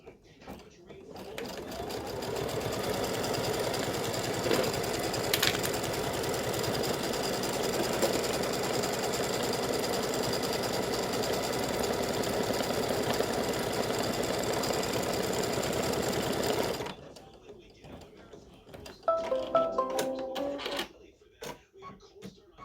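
An embroidery machine stitches a seam line for a side panel in a hoop, a fast steady mechanical clatter running loud and near for about seventeen seconds, then stopping, followed by a few quieter clicks and handling noises.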